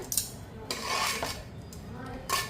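Bundi laddu mixture stirred in a metal pot, giving scraping, clinking and rubbing sounds that run steadily and close for a couple of seconds, with brighter scrapes at the start and end.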